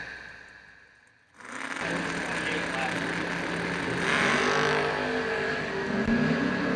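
Drag race cars launch hard off the line at a strip event, a loud sustained engine roar swelling after a brief lull and staying dense and close, with an announcer talking over it.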